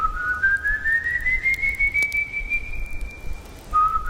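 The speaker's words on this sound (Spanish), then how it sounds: "Se paraba afuera y silbaba." Eerie long human whistle rising slowly in pitch and holding, then a short lower note after a pause, clear and alone over a faint low background, for a tale of El Silbón.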